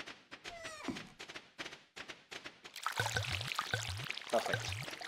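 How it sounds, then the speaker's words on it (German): Refilling a watering can with pond water in Stardew Valley, a series of short splashy pouring bursts with low thunks, layered over other busy game effects and clicks. "Wasser füllst du im Tümpel nach."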